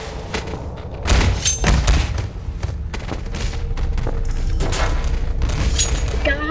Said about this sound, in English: There's a guy shooting at me.